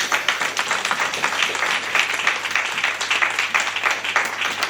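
Church congregation applauding and cheering to acclaim the Lord, a steady dense wash of clapping and voices sustained throughout at fairly close range.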